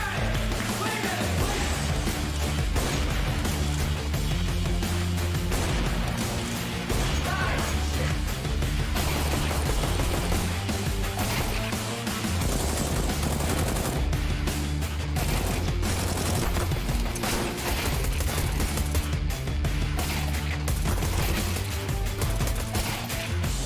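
Rapid bursts of gunfire from a professional CS:GO match at ESL Pro League, dense and loud across the whole stretch, mixed with excited yelling and a busy broadcast backdrop.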